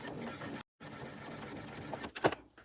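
A sewing machine stitches an appliqué onto a fabric bag with a steady close-up motor hum and rapid needle clatter, breaking off briefly before resuming, then a few sharper clicks near the end.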